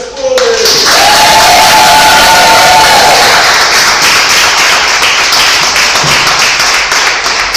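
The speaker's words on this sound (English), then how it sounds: "So, can we have a round of applause for Annika Spalding?" A crowd at a book signing event breaks into loud, sustained applause and cheers for author Annika Spalding, close and dense throughout, with a brief whistle near the start.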